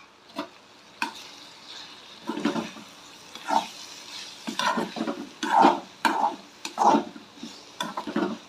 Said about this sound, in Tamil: இடையில நம்ம இப்போ ஒரு தடவை மூடியை திறந்து கிண்டி விட்டுக்குவோம்